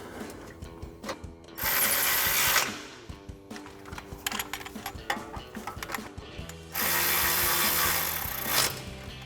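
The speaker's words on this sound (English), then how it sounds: "And then we can take a 10mm socket to tighten down our brake line brackets." Ratchet with a 10mm socket tightening brake line brackets on a 2004-2023 Ford F-150 during a front leveling kit install: two sustained bursts of rapid clicking, close and loud, separated by scattered mechanical clinks and handling noise.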